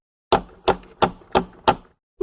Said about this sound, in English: She knocks on the door of Toad's cell